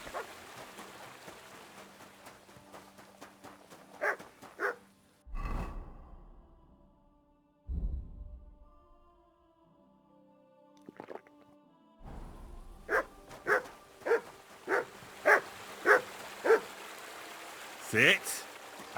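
A dog in the video game Kingdom Come Deliverance 2 barks on command: a few scattered barks early on, then a quick, even run of about seven sharp barks near the end, heard close amid faint ambient game sound.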